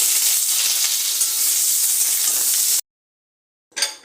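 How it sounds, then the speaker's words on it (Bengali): Potatoes fry in hot oil in a wok, a loud, steady sizzle lasting almost three seconds before cutting off to silence, then a brief burst of sizzling returns at the end. "প্রথমে কড়াই তেল দিয়ে আলুটা"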